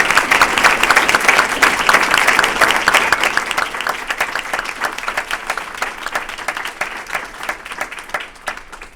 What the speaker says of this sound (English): Please join me in a round of applause for Don, Sarah, and Ira.